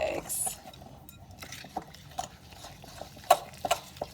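A fork whisks brown sugar and eggs together in a bowl, making light, scattered clinks and scrapes against the sides, soft and close, with a few sharper taps near the end.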